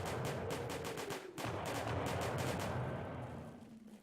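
Musket volleys and artillery fire crack out in Combat Directive: Napoleonic Wars, a dense run of sharp, repeated shots with dull booms over a steady battle rumble, with no talking.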